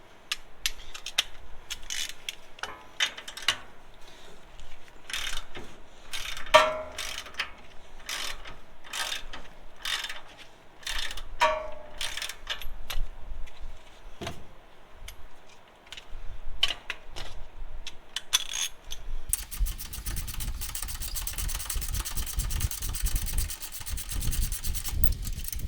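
A ratchet clicks in repeated short bursts loosening a 19 mm sway bar end link bolt on a 2010 Toyota Tundra, with metallic scrapes and tool handling, ending in a harsher continuous grinding noise.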